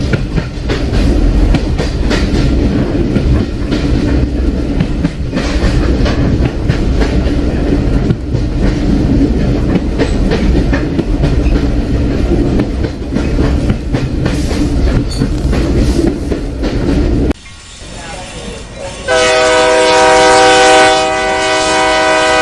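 A passenger train runs loudly along rails through the night in India, with a steady rumbling roar for most of the stretch before a brief dip and a long, sustained train horn near the end.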